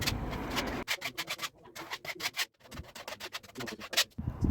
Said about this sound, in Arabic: وبدات بان احنا نصنفر الحيطه